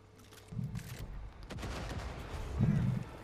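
Missiles launched in the video game Far Cry 5 during a co-op campaign, a couple of short low booming bursts with rumbling in between, moderately loud.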